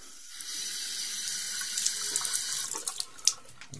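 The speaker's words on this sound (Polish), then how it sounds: "mydło damy pod wodę." Tap water runs steadily into a sink over a bar of soap, a continuous close splashing hiss that grows slightly busier with a few sharper drips and spatters toward the end; no talking.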